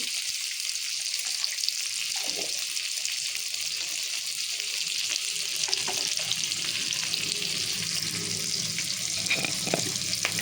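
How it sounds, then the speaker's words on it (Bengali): Onions with a pinch of salt frying in a pan, a continuous hiss of sizzling oil with occasional soft scrapes and knocks of a spoon, close and steady with no talking. "আমি দিয়ে দিচ্ছি অল্প একটু নুন দিচ্ছি, তাহলে পেঁয়াজটা তাড়াতাড়ি ভাজা হয়ে যাবে।"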